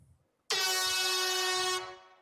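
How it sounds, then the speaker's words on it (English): A single loud, blaring air horn blast with a harsh buzzy tone, holding steady for over a second before cutting off, following a faint murmur. "That's the most terrible air horn ever."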